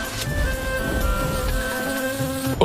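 A buzzing grasshopper sound effect, a continuous droning insect buzz with steady tonal whine, close and even in loudness for under three seconds, with no talk.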